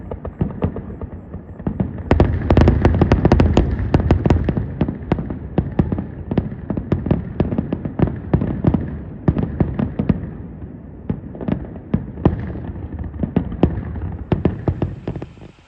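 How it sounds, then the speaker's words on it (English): A Fourth of July fireworks display crackles and bangs in rapid, irregular bursts that continue without letting up. Loud pops and sharp reports overlap throughout, with no talking. "I headed up the road to check out the 4th of July fireworks display"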